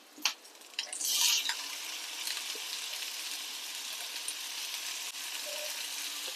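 Tomatoes hit hot oil in a pan for a bachelor-style egg masala, setting off a sharp burst of sizzling that settles into a steady, close frying hiss with light stirring.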